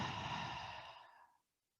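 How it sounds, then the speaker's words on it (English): A single deep, breathy exhale during a flow yoga class, close and soft, tapering off into silence after about a second and a half. "whenever you need to let go, chin up first and a deep exhale"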